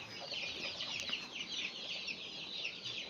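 Chickens in a farm coop cluck and squawk continuously, a busy overlapping chorus of many birds at moderate volume with no talk.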